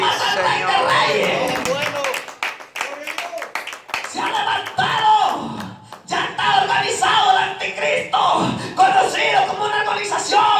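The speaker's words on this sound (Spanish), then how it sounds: "Dele palmas al Rey de Reyes." A church congregation at an evangelistic service claps and cheers in praise of Christ as King of Kings, loud rhythmic clapping mixed with shouts and voices, crowd noise filling the room with brief lulls.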